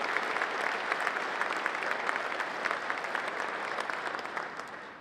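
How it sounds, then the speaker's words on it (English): Conference attendees at the African Land Forces Summit give a sustained round of applause, steady and full for several seconds before easing slightly at the end. "just please give them a round of applause just for getting off to a great start"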